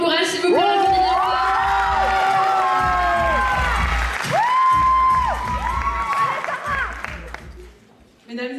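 Loud crowd applause and cheering for a pageant candidate at a theatre evening, sustained clapping with whoops beneath music and tonal swells, fading out at the close.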